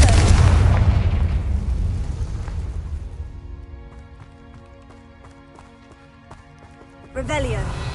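The Confringo fire spell from Hogwarts Legacy goes off with a loud rumbling blast that fades into quieter tonal game sounds and then a second burst.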